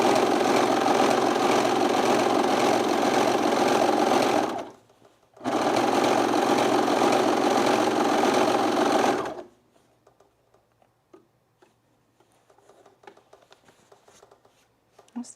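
Serger overlocking seams on men's jeans, running fast and loud in a steady whirring buzz for two long bursts with a short stop between, then falling silent apart from faint handling noises.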